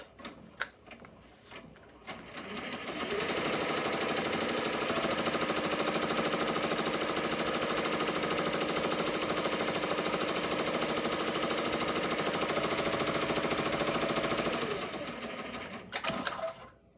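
Embroidery machine stitching an appliqué butterfly design onto a shirt: a steady, loud, rapid mechanical needle chatter running continuously for about twelve seconds, with a few start-up clicks before and stopping ticks after.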